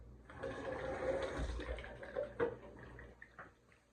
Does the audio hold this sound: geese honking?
no